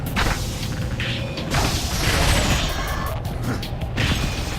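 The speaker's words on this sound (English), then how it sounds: "Lob shot with the grenade." A grenade is lobbed and bursts in the Unreal Tournament 3 video game. The result is a dense, loud rumble of blasts and crashing debris layered over continuous game battle noise.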